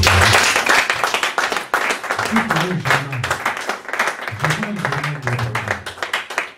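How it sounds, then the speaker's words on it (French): A church congregation at a Paris worship service cheers and claps loudly, a dense sustained roar of applause with shouting voices throughout. "Est-ce qu'on peut acclamer très fort?"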